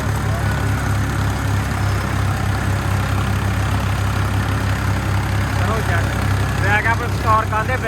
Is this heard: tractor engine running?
yes